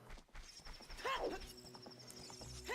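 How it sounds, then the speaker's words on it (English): Horse in the video game The Legend of Zelda: Ocarina of Time Randomizer, rhythmic clip-clopping hooves followed by a clear whinnying neigh, heard alongside faint game sounds and commentary. "That's a horse."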